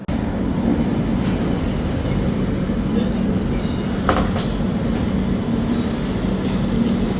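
The Duronto Express rolls into Guntur Junction, heard from inside a first-class coach as a loud, steady rumble of wheels and carriage noise with faint squeals and clicks throughout.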